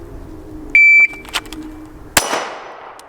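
A single sharp metallic clang of a Springfield Hellcat Pro pistol round striking a steel target at the range, loud and close, followed by a bright ringing burst that decays over a second.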